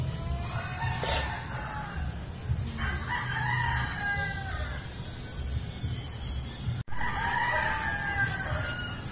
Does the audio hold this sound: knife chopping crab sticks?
no